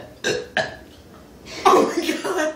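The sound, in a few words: burp during a burping contest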